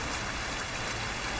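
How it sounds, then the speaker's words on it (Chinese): Heavy rain pours outside in a dense, steady hiss that covers the whole moment, with no talk. "我说外面下这么大雨，我能走吗？"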